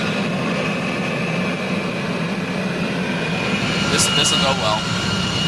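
A Harrier-style jet engine runs in a hover pit, exhaust vented out the side, giving a loud steady roar with a high whine throughout while a person speaks briefly over it.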